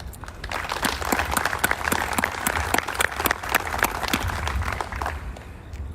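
A crowd applauds a truck driver hero at an official proclamation event, steady dense clapping with sharp individual claps standing out, continuing evenly for several seconds before easing slightly at the end.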